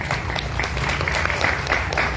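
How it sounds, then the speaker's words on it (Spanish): Steady audience applause fills a book presentation event, a dense wash of clapping from a seated crowd, moderately loud and continuous, with faint voices underneath. "otro aplauso para ella"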